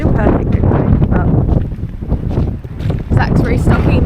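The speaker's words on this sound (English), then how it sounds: "this would be perfect if it wasn't so windy" Strong gusty wind buffets the microphone outdoors with heavy low rumbling and flutter throughout, while people talk over it.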